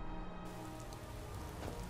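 Rain in the video game Skyrim falls as a steady, dense hiss with faint pattering drops throughout, quiet and unbroken across the short stretch with no voices.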